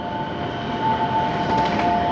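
Steady rumble of the Narita Express limited express train running between Shinjuku and Narita Airport, heard from inside with a continuous broadband roar and faint tonal whines, with no talk.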